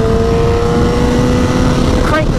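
A motorcycle engine revs steadily and loudly at close range, with a sustained droning tone throughout and a short rising rev near the end.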